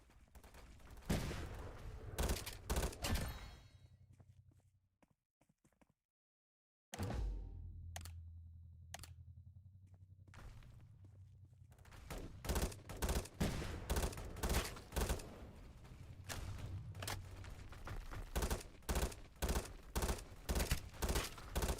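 Rapid gunfire bursts in the shooter game Pixel Gun, loud clustered shots that drop out into near silence for a couple of seconds, then resume in dense repeated volleys.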